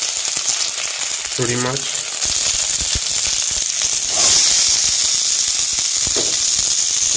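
Onions sizzle and fry steadily in a hot pan with chilies for a bread upma, a continuous bright crackle with a brief louder surge as they hit the oil, while a voice speaks briefly over it.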